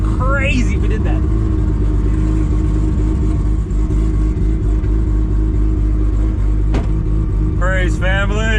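A very fast car accelerates hard at speed, its engine roaring loud and steady throughout, with excited shouts breaking in near the start and end.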